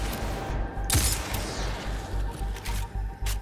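A sniper rifle fires in the video game Destiny 2, one loud sharp crack followed by a rumbling tail over a steady background of game noise and distant bursts.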